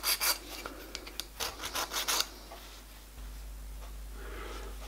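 A file rasps against a metal locomotive part in several short, uneven strokes, taking off sharp edges, close and clear, then stops, leaving a low steady hum.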